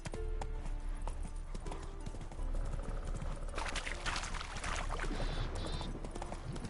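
Horse hooves clip-clop in a steady walking rhythm in the video game Witcher 3, close and continuous, with faint game ambience and occasional higher tones behind them.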